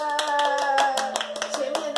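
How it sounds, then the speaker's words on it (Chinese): Live audience at a singing performance claps, with scattered sharp claps over sustained held vocal tones and music, the applause fairly close and building briefly. "来宾掌声鼓励。"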